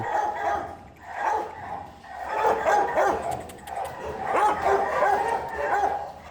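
Several dogs in an animal shelter barking and yelping at once, overlapping in waves, with whimpers mixed in, close and fairly loud.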